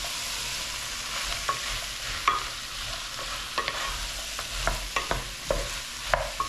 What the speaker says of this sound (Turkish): tertemizce yıkadık ve şimdi böyle karıştırmaya devam edeceğiz